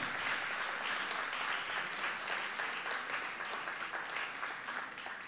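Sustained, dense applause from an audience honoring a finalist team at a school photo-reading contest award ceremony, steady and fairly loud throughout with no voices over it.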